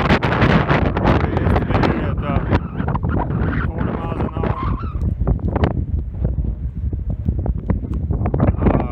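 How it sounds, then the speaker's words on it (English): Strong wind in Nebraska roars steadily across the microphone for the whole stretch, loud and gusty, during a long-distance bike ride on open roads; a voice talks briefly beneath the buffeting. "Here's some Nebraska wind for you."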